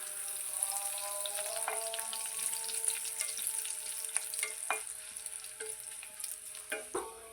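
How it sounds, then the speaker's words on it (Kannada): Curry leaves and garlic sizzle in hot oil for a Kannada-style sabbasige (dill) palya, a steady close crackle broken by occasional sharper spits and utensil taps, with no voices. "ಒಂದಿಷ್ಟು ನಾನು ಕರಿಬೇವನ್ನ ಹಾಕ್ಕೊಳ್ತಾ ಇದ್ದೀನಿ."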